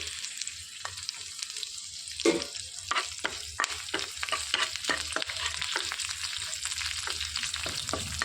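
A bay leaf and a sprig of curry leaves frying in hot oil in a pan for restaurant-style paneer masala curry; a loud burst of sizzle, then steady crackling with repeated spatula scrapes and stirring knocks, close and without speech.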